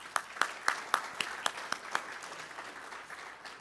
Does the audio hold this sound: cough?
no